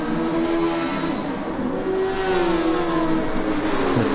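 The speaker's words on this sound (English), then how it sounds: "The Ferrari then diving up the inside into the hairpin, and he gets past Junior." A Formula racing car engine from a video game, racing at a Tokyo track, whines loud and steady through the whole stretch, its pitch bending slightly as it eases off and builds again. No one talks.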